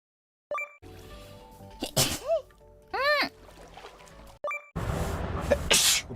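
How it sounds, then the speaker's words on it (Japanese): A livestreamer sneezes sharply, with a startled exclamation and quick apology-like talk around it; bursts of noise and a high tonal whistle-like sweep also appear among short vocal sounds. "わ、くしゃみ。"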